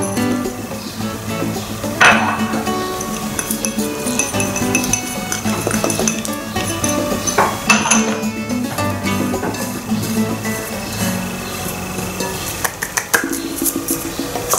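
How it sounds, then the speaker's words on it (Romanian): A utensil stirs flour, baking powder and salt in a bowl, making repeated light clinks and scrapes against the side, close up, with faint background music and no speech. "Amestecăm făina cu praful de copt"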